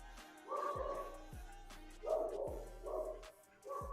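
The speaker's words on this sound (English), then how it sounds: "You can hear my dog barking upstairs." Somewhere upstairs in a house, a dog barks in a few repeated, muffled bursts at a distance, heard faintly alongside a low background hum.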